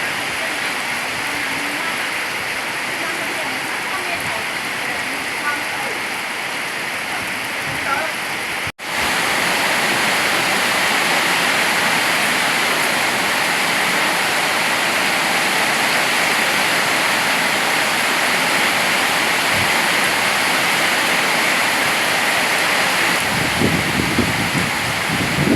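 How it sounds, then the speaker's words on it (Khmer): Heavy rain pouring over rice fields, a loud unbroken roar of falling water that cuts out for a moment and then resumes just as strongly, with some low rumbling near the end. "ថតនៅនឹងទឹកភ្លៀងហ្នឹង"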